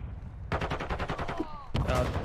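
Gunfire in the Counter-Strike video game with an AWP rifle: a rapid run of sharp, close shots for about a second, a short gap, then another loud burst.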